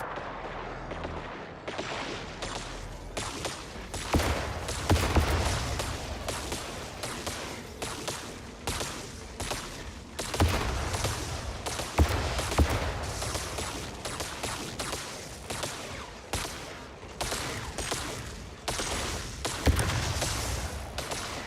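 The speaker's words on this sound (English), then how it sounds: "Ouch, I'm getting sniped at." Sustained, dense volleys of gunfire from the video game MindsEye, loud sniper shots mixed into continuous rattling bursts and booms with no break for about twenty seconds.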